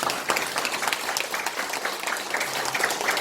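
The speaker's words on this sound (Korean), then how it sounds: "우리 세 분인데 박수 한번 부탁드립니다." An audience at a Korean discussion event on mental health and filial piety claps for three panelists, a short burst of fairly loud, dense applause that holds steady throughout without any speech.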